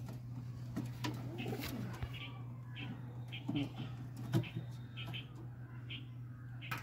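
Pigeons kept at home, including pure-bred adult tournament birds, give soft, low coos and faint rustles at a distance while someone talks over them in a quiet room.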